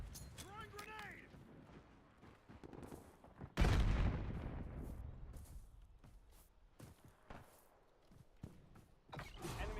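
In the Call of Duty Warzone battle, a grenade blast booms loudly and decays into a ringing tail, with scattered gunshots and bursts of fire before and after.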